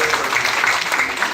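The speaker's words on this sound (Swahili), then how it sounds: "Makofi kwa nyinyi." Applause from an audience at a Machakos County gubernatorial aspirants' vetting debate, a dense, steady patter of clapping that fills the short moment.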